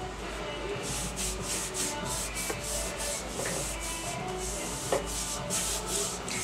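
Wax strip pressed onto a layer of liquid cream wax and rubbed down firmly, a continuous close scratchy rubbing with repeated back-and-forth strokes, no voices.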